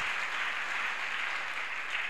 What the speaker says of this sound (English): Clap your hands for those words.